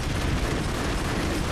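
Explosions in the video game Broforce, a dense, continuous roar of blasts and crackling debris, loud and unbroken throughout the short stretch.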